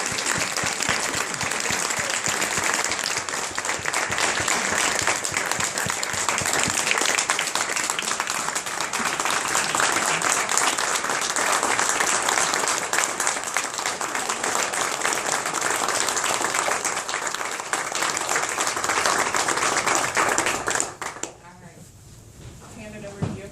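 An audience at an annual Athena Award ceremony breaks into sustained applause, loud and steady for about twenty seconds before it quickly fades out.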